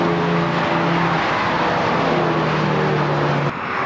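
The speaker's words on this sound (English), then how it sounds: "Car looks so good going down the track." A Corvette C8 Z06 GT3.R race car drives down the track at Pitt Race, its engine a loud, steady, sustained roar with a held pitch that shifts slightly near the end.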